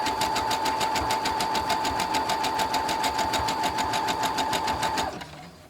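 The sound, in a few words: sewing machine sewing a zigzag stitch on fabric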